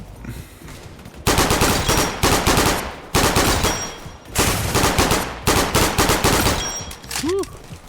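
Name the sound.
gun firing in a video game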